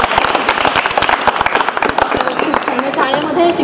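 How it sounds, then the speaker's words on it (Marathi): Audience clapping after a child sings a Marathi devotional song at a school event, close and fairly loud, a dense run of sharp claps with voices mixed in. "त्याला टाळ्या मला वाटतं वाजवायला वाटतं."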